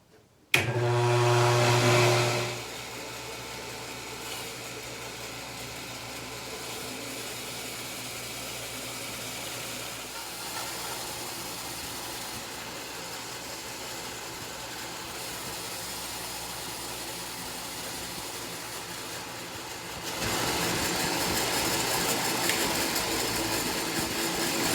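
A worktable sawmill cuts through a black mulberry log. A loud motor whine starts briefly, then the blade runs through the wood with a steady buzzing drone that grows louder near the end.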